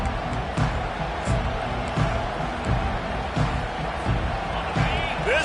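At a Longhorns college football game, a stadium crowd roars in a dense, constant wash, with rhythmic thumps and swells, under steady play-by-play commentary.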